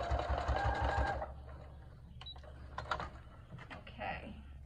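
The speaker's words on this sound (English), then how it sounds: "Again, sewing at a half inch." Sewing machine stitching a fabric filter face mask at a half-inch seam, a close steady whirring burst for about a second, then a quiet pause with faint handling clicks and a brief second run of stitching.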